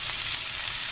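Peppers frying in a pan with carrots while being stirred, a dense, bright sizzle that stays continuous and close for under a second with no talking.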